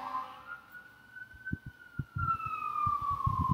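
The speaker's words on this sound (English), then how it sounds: "There's the ambulance, the honking of horns." An ambulance siren wails outside, faint and distant, its tone sliding steadily up and down while low thumps and a few other noises come through nearby.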